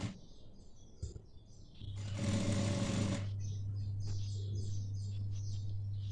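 Sewing machine stitching a seam along the edge of a large fabric apron, a steady close mechanical whir starting about two seconds in and running to the end, following soft handling noises.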